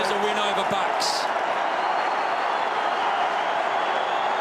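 A packed football crowd roars without a break at a Crows v Pies AFL match in South Australia, a dense, loud and steady wall of cheering with a few sharp shouts near the start.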